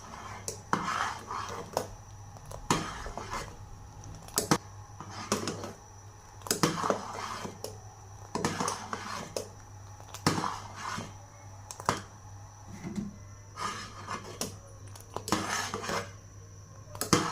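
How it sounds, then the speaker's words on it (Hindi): A spoon stirs mixed custard into a pan for a sweet dessert, giving repeated sharp clinks and scrapes of metal on metal in an irregular rhythm. The sounds are close and moderately loud, with no talking. "इसमें डालेंगे हम मिक्स किया हुआ कस्टर्ड। इसे कर देंगे अच्छे से मिक्स।"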